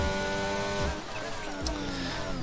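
In a racing video game, a race car enters the pit lane with its engine whining and the pitch dropping as it brakes and shifts down, then holding a lower, steady drone. Faint tire noise sits underneath, with no one talking.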